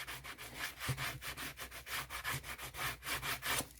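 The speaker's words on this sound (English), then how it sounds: "just sand it down a bit, make it a little bit of a rougher surface" Sandpaper rubs back and forth across a playing card surface to roughen it for gluing, giving about fifteen quick, even rasping strokes, close and fairly soft, with no talk.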